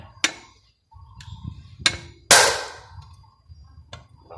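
A hammer taps on a small bolt in the kick-start mechanism of a Honda Spacy scooter, giving four sharp metallic knocks spaced apart, the third loudest, with faint handling noise between.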